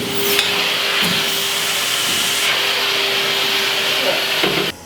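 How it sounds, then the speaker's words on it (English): A wet-vac hisses steadily as it sucks water off a wet screen-printing screen, a continuous broadband rush with a thin whine and a few knocks, cutting off at the end. "the vacuum used to suck the water off the screen."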